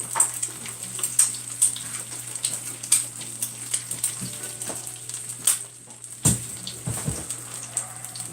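Overheated grease sizzling and spitting in a frying pan, a steady close crackle with irregular pops throughout and a few louder clatters near the end, no talk.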